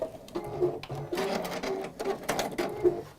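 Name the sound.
sewing machine stitching back over stitches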